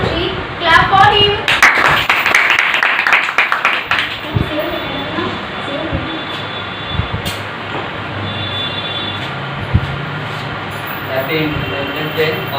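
Students applaud at an Independence Day celebration, a burst of clapping in the opening seconds that fades into a room murmur with occasional knocks and voices.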